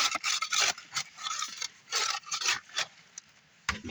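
Small shovel scraping loosened dirt and gravel into a bucket, a series of short gritty rasping strokes at close range with brief pauses between them.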